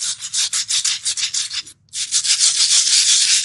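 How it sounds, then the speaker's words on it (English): Painted concrete scrubbed with an old tile brush and water, a run of rapid rough back-and-forth strokes, loud and close, with a brief pause before the scrubbing resumes steadily. "I'm using a tile brush, an old tile brush, and we're just going to see. I'm going to give it some scrubbing."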